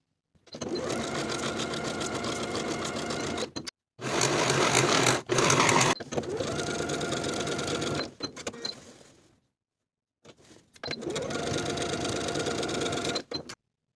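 Sewing machine topstitching the seams of a denim jacket, running in several steady buzzing bursts separated by short pauses, close and fairly loud with no voices.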